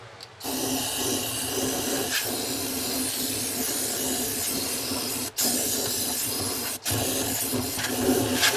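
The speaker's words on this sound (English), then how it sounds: "my theory is I'm gonna shoot some brake clean down in here" Brake cleaner aerosol sprays into the oil pan of a 1965 Ford Galaxie engine: a close, loud, steady hiss running for several seconds, broken by two brief pauses, with no talking.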